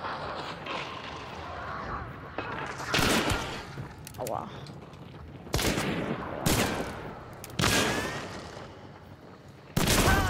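Gunfire in the Western shooter game Hunt: Showdown: several loud, sharp shots spaced a few seconds apart over a quiet, creaking background, with a player speaking briefly between them.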